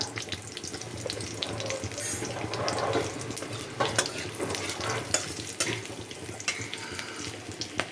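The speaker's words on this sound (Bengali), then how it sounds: "ওই তেলটার মধ্যেই দুটো এলাচ, একটু দারচিনি আর দুটো লবঙ্গ ফোড়ন দিব, আর এর সঙ্গে একটু সাদা জিরে" Cardamom, cinnamon, cloves and cumin frying in hot oil in a pan, a continuous close sizzle and crackle with occasional stirring scrapes and small pops, no talk.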